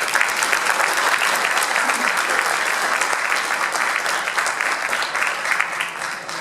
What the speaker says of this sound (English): I want to ask you to give yourselves a round of applause.